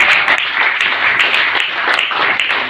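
A church congregation clapping in praise of Jesus, a dense, continuous wash of many hands applauding at once, loud and sustained throughout.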